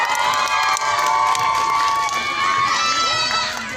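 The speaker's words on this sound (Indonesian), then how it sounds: "Tepuk tangan untuk Angga Yunanda." Crowd at the Dopamin film press conference cheers and shouts loudly for a cast member, a steady roar of excited voices with scattered high-pitched screams and some clapping throughout.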